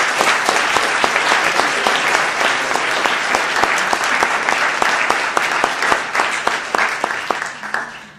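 A large audience at an evening Aquinas symposium talk breaks into sustained, dense applause as Father Robert Barron is welcomed, loud and steady throughout before easing slightly near the end.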